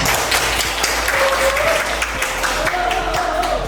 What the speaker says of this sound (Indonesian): Tepuk tangan dulu buat Nasa